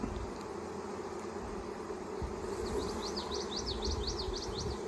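Honey bees buzzing around an open hive during an inspection outdoors, a soft steady drone close by with faint bird chirps in the background.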